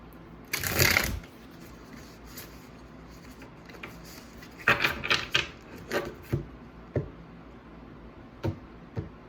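Close, quiet riffle of tarot cards being shuffled, one longer burst followed by a series of short taps and flicks as the deck is worked.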